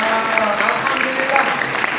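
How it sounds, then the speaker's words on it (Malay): A school hall audience at a motivational talk claps steadily and loudly for a couple of seconds, the applause dense and continuous with a faint voice mixed in. "bagi tepukan untuk diri sendiri dulu"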